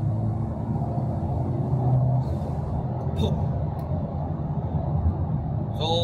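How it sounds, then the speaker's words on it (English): Mazda RX7 FC3S rotary engine fitted with a Group M intake and a Turbo Smart blow-off valve, running in fourth gear as a steady, loud low rumble, with a couple of short airy hiss bursts and voices faintly underneath. "Bunyi macam ni, Adrian modify Group M intake. Lepas tu Turbo Smart punya blow off."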